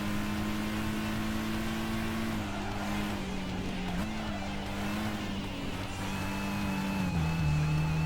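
Volkswagen Lupo race car in Gran Turismo 5 heading downhill, its engine holding a steady, loud drone throughout with small pitch dips as it shifts, game music or ambience faintly beneath and no talking.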